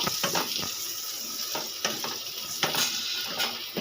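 Potato being sautéed with turmeric, cumin and garam masala for aloo paratha filling, with a steady sizzle under repeated sharp scrapes and knocks of a spoon stirring the pan, no voices.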